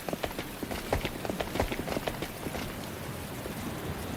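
Steady rain pours down in a dark scene from The Hundred Line: Last Defense Academy. It gives a dense, even wash of drops with scattered sharper patters, and no voices are heard.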